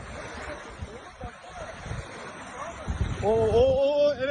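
Tsunami water rushes ashore from the ocean as a steady, roaring surf-like wash mixed with wind buffeting the microphone, growing louder toward the end, where a voice shouts over it.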